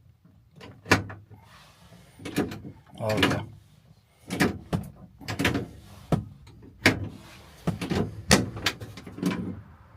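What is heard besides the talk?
car door opening and closing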